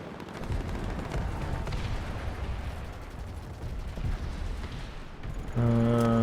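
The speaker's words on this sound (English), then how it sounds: "There's some explosions going off here." Explosions and gunfire in the online shooter Planetside 2 merge into a dense, continuous roar with rumbling bursts. A steady tonal hum cuts in near the end.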